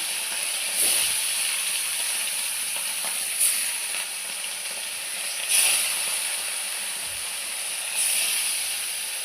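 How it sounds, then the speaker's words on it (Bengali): Bata fish coated in salt and turmeric fries in hot mustard oil, giving a steady close sizzle and hiss that swells into louder spitting bursts every few seconds, with no talking. "সর্ষের তেল গরম করে মাছে নুন হলুদ মেখে মাছটা ভেজে নেব"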